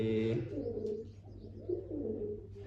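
Newly released pigeons coo in soft, repeated throaty phrases close by, rising and falling across the stretch, with a short louder call at the start.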